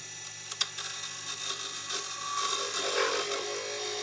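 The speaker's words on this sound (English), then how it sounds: "I've now switched back to the roughing gouge to form the section of the handle that people will grip." Roughing gouge shaping a wooden ice cream scoop handle on a NOVA Comet II lathe, a steady scraping hiss of cutting with a couple of sharp ticks near the start, moderately close.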